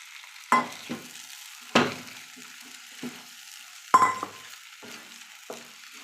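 Eggs are stirred in a coconut milk masala in a pan, giving sparse, intermittent scrapes and clatters of a spoon over a faint, low simmer with quiet gaps between them.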